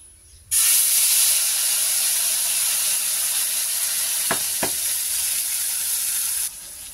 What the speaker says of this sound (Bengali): ফোড়নে দিলাম একটুখানি গোটা জিরে।